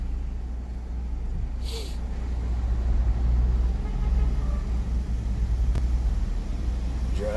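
Car cruising through downtown streets at night, a steady low engine and road rumble swelling and easing, with faint passing traffic and brief background noises.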